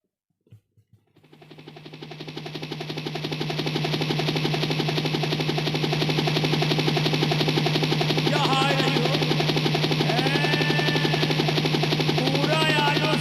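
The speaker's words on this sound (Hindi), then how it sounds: "कितनी बड़ी हेलीकॉप्टर आ रही है।" A large helicopter arriving at a night court gathering in a Nautanki folk stage drama, its loud continuous rotor chop building up in the first few seconds and then holding steady, with faint other sounds showing on top.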